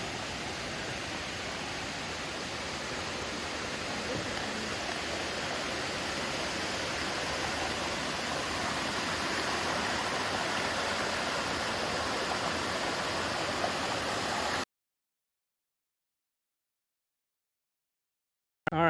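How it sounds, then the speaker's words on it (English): River water flowing past a small bridge on a wilderness trail at Cumberland Gap, a steady broadband rush that holds even for about fifteen seconds before cutting to silence. "All right, we're here at the river."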